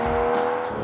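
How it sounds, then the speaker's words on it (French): Aston Martin DBS Superleggera with titanium exhausts, a loud, steady engine roar with strong harmonic drone, revving continuously and close up without pause. "La sonorité est vraiment démoniaque grâce aux échappements en titane."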